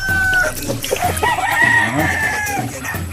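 Several chickens cluck and squawk close by in a busy, overlapping chorus, with a rooster-like call rising among them.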